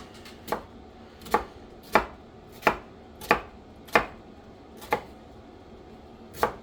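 A knife chops vegetables on a cutting board, cut for ratatouille: nine sharp, evenly spaced strikes against the board at a steady rhythm, close and clear over faint room noise with no talking.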